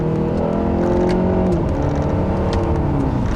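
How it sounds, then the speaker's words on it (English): A 2015 Acura TLX 2.4 engine revs loudly and steadily from inside the car, with the pitch rising and falling as the paddle-shift transmission shifts and the throttle blips, with no talk over it. "You can hear that the paddles just respond, or the transmission shifts so quickly and responds so well to that blip of the throttle"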